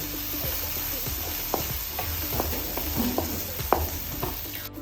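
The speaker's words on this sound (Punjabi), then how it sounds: "ਕੱਟੀਆਂ ਹੋਈਆਂ ਹਰੀਆਂ ਮਿਰਚਾਂ ਇਹਨਾਂ ਨੂੰ ਵੀ ਭੁੰਨਾਂਗੇ ਥੋੜੀ ਜਿਹੀ" Onions and chopped green chillies fry in a pan with a steady dense sizzle, punctuated by occasional stirring scrapes and clicks, close and continuous.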